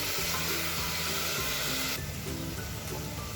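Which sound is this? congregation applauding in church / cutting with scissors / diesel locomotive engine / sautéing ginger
sautéing ginger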